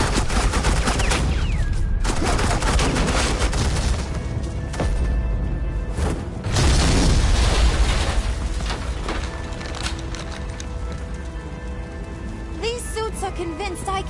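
Suppressing gunfire in Batman: The Telltale Series, a loud, continuous rattle of automatic weapons sustained for over ten seconds, with crashes, impacts and speech layered through the barrage.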